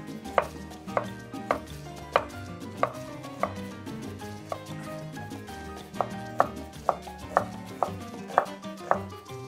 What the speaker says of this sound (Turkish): Bir tane soğan da küp küp doğradım.